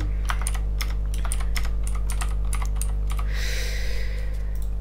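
Typing on a computer keyboard while filling in a game forum registration form: a quick close run of key clicks in uneven bursts, ending in a denser clatter, over a steady low electrical hum.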